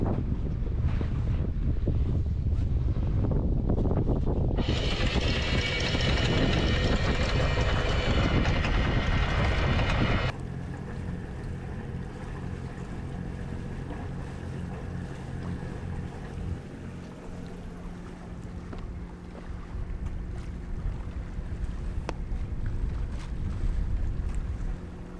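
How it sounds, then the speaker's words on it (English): Sailboat underway in a light breeze on a solo passage out of Tual, with heavy wind buffeting the microphone at first, then a steadier low hum of water and hull running alone without talk. "Got the sails up, it's a very light breeze."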